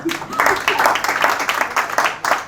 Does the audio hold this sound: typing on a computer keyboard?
no